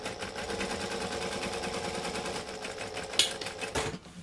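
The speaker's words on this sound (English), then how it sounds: "I'm going to top stitch it with a decorative stitch length." A sewing machine runs a steady, fast stitching rhythm while top stitching a Bagstock Divina bag with a long decorative stitch, continuous and close, with a brief sharp clack near the end.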